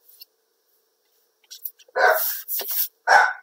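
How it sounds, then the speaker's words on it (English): A dog barking indoors in a few sharp, fairly loud bursts near the end, after a stretch of near silence with faint scattered noises. "The dog is getting loud"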